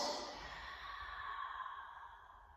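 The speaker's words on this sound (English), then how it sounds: "I'm breathing in through my nose and I'm breathing out through my mouth." A single slow, breathy exhale from close by, soft and steady, fading gradually during a surfer's warmup breathing exercise.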